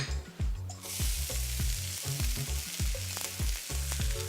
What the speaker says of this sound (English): I'm going to start my tangine, and I want a teaspoon of oil. I'm going to add my shallots